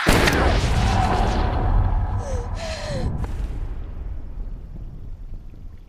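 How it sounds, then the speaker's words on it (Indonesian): A sharp gunshot from a film bursts out at the start, followed by rumbling echoes and brief vocal sounds that fade into quiet. "Annie lalu menembak Cat dan pergi bersama V."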